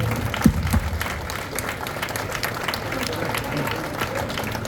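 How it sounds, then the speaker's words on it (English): Audience applause at a Battle of the Beasts press conference in Malta, a steady wash of clapping from a crowd that stays moderately loud and even throughout. "I think we should give everyone a round of applause just for that, just for being here in Malta"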